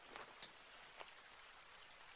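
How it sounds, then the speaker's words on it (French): Steady rain falling in the survival video game The Forest, a soft, even hiss of raindrops with a few brief louder drips, faint and continuous with no voices. "Il pleut."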